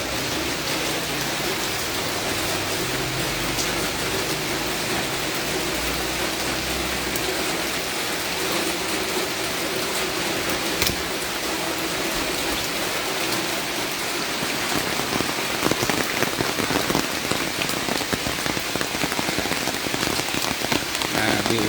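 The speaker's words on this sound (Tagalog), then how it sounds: "Ulan, no?" Rain falls steadily on a surface on a wet morning, a dense even patter of drops throughout with slightly heavier spatter toward the end.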